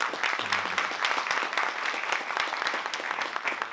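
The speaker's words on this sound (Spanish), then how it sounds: "un aplauso muy grande para Ernesto Díaz" Dense applause from a festival audience at the Santiago Horror Film Festival opening, a continuous patter of many hands clapping at moderate loudness.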